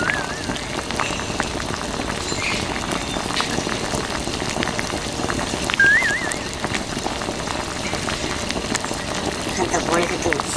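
A small homemade mini water pump sprays water over a toy tractor as it is washed, giving a steady, close hissing splash like light rain that runs through the whole stretch, with a person talking over it.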